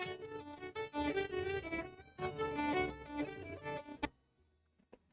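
An Irish jig ringtone plays from a phone in the Nancy Drew: Alibi in Ashes video game: a lively, bouncy melody for about four seconds that stops abruptly and leaves near silence.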